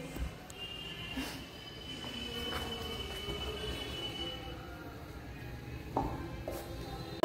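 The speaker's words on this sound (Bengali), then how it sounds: "বনগাঁ ট্রেন জাস্ট একটু আগেই পাস করলাম, বনগাঁ দিকে গেল।" A Bangaon train runs through Gopalnagar station with a continuous low rail rumble and rattling wagons, and wheels squeal sharply now and then before a louder burst at the close.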